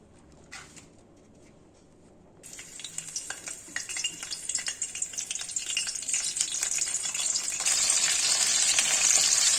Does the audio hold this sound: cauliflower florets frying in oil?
yes